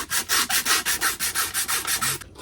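Rhythmic back-and-forth sanding with 120 grit sandpaper on a Ford Focus part during wheel bearing and valve cover gasket work, about ten steady, loud rasping strokes in close succession with no talking.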